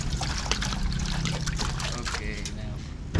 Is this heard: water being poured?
yes